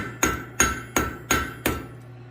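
A blacksmith hammers out a lizard's leg forged from a block of steel, five sharp ringing blows in an even rhythm, close and alone, each strike leaving a short metallic ring.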